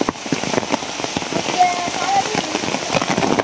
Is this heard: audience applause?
no